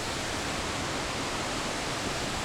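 Waterfall in the Westfjords of Iceland roars as a steady, dense wash of broadband noise, loud and unbroken throughout with no voices.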